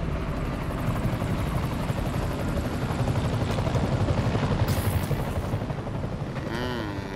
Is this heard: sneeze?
no